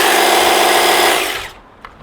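A Husqvarna commercial battery hedge trimmer runs at full speed, a smooth high-pitched buzzing whir held steady up close, then winds down quickly to near silence with a brief faint click near the end.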